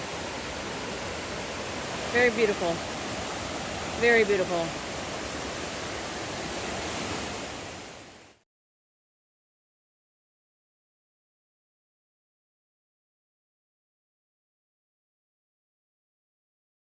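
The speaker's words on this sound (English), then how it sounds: "this creek here coming from this direction, and up there another creek coming from another direction, merging together and going that way" Two creeks merge outdoors, producing a steady broadband rush of flowing water. A person speaks briefly twice over it, and the water sound cuts off abruptly after about eight seconds.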